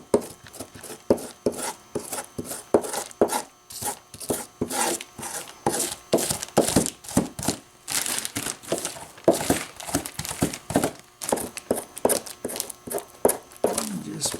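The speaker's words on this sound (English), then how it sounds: "I can actually do a bit of a scrape like this" Meat being scraped off deer sinew with a blade, a steady run of short, sharp scraping and crinkling strokes in quick irregular rhythm, close up, with brief talk over parts of it.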